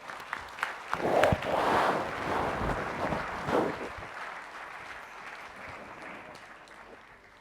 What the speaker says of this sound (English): Please join me in applauding of Ritika for her work